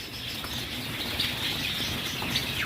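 Adult white Java sparrows flutter and chirp in a busy cage, with quick wing flaps and scattered high tweets over a low background rumble.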